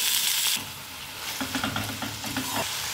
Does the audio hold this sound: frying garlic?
yes